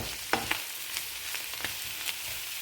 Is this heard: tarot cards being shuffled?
no